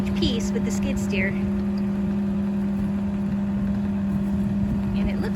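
A skid steer engine runs at a steady, loud drone with a constant low hum while moving a section of a farm stand, with voices talking briefly over the top near the start.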